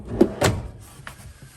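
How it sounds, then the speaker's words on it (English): Two kitchen drawers in a 2015 Pleasure-Way Excel-TS Class B motorhome pulled open: two quick close sliding thumps, then a softer clack and a faint knock as they settle. "We've got 2 drawers here, so these pull open."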